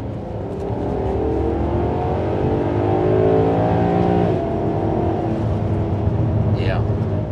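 A 2014 Maserati GranTurismo Sport accelerating hard, its engine note climbing, then a shift into second gear with a clear drop and renewed rise, heard from inside the cabin as someone talks.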